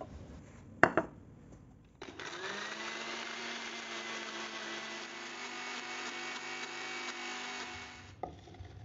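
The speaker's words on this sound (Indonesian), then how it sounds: "Kita blender dulu cabai rawit dan bawang putihnya." A blender grinds bird's eye chilies and garlic with oil, running as a loud, steady whir for about six seconds after a couple of sharp knocks, then stopping.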